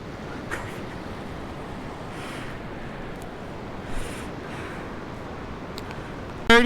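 Ocean surf at Kalaloch Beach on the Pacific coast, a steady broadband wash of breaking waves with wind buffeting the microphone, a few brief distant splashes or calls, and a sudden close knock at the very end.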